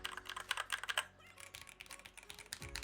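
Rapid bursts of clacky key presses on an ASUS ROG Azoth mechanical keyboard, close and crisp, pausing briefly mid-clip before resuming with low background noise.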